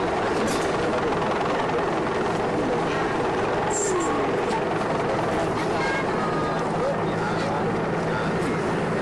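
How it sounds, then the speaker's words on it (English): A helicopter passing over a fashionable little hillside town on the Sicilian coast, heard as a steady low rotor drone that carries on for the whole stretch beneath wind noise and someone talking. "Oh. Helicopter."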